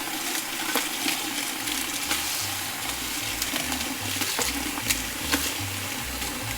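Water runs steadily while soaked dried chiles are washed for a red pork pozole, a continuous splashing, trickling wash with faint clicks and knocks from handling in the bowl.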